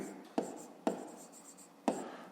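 A pen writes out a math solution on paper, with soft continuous scratching broken by three sharp taps or strokes, close and quiet.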